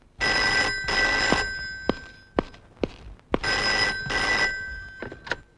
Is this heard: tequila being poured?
no